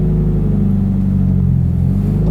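A Subaru BRZ with a manual gearbox pulls away from a stop, its engine a loud, close, steady low rumble with a humming drone that swells slightly toward the end, with no voices.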